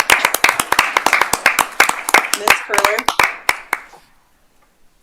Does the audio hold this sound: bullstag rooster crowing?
no